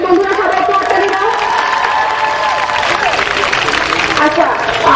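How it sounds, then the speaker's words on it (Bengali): Audience applause at a welcome for a literary-cultural organisation during a student gathering: steady, dense clapping from a crowd for about five seconds, mixed with cheering and overlapping voices. "বন্ধুরা সবাই একটু হাততালি দাও।"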